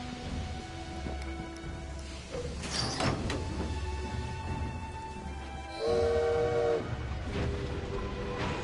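A train in the Assassin's Creed Syndicate video game rumbles past with rolling low noise, metallic screeches and a bright horn-like tonal blast near the end, heard fairly close.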